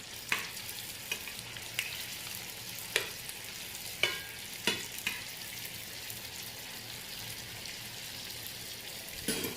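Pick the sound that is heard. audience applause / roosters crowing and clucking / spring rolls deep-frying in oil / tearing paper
spring rolls deep-frying in oil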